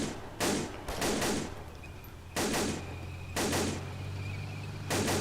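Short automatic gunfire bursts from the World War II shooter Iron Front: Liberation 1944, four loud, close volleys spaced a second or so apart over a constant low engine-like drone.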